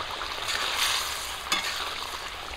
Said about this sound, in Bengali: মাছটা দিয়ে কিছুক্ষণ ঝোলটাকে ফুটিয়ে নেব